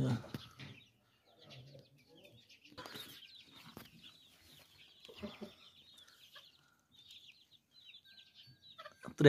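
Aseel chickens on a village farm cluck softly and sporadically at a distance, mixed with faint bird calls and quiet voices talking nearby.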